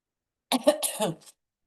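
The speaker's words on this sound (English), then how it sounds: "now I got a bit of coughing" A woman who is sick coughs and clears her throat in a brief, close burst of several rough hacks lasting under a second, with no talk around it.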